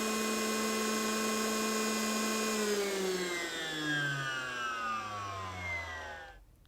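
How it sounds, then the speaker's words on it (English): DeWalt DCN890 cordless concrete nailer motor running at full speed, a steady high whine with a strong tonal hum that then winds down in falling pitch and fades out at the end. "the motor now continues to run at full speed"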